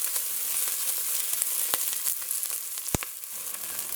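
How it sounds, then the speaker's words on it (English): Peppers, scallions, onions and curry leaves sauteing in hot oil, a steady crackling sizzle up close with a few sharp pops and light clicks of a utensil, no talking. "we're going to allow this to saute in here until the onion has a light brown color"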